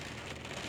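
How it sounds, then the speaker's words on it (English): Rain falls steadily outside, a soft and continuous hiss that stays at an even, low level for the whole moment, with no voices over it. "you guys can probably hear the rain"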